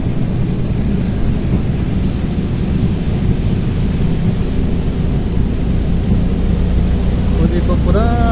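Heavy rain pours down in a dense, steady hiss while low thunder rumbles continuously beneath it, loud and close throughout, heard during a tuktuk ride, with no clear speech.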